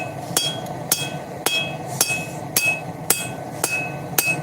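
Hammer blows ring out on titanium tong reins being drawn out during forging, eight sharp metallic strikes at a steady unhurried rhythm, each with a bright ringing tail, close and clear without speech.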